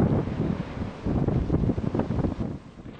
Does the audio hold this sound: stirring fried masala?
no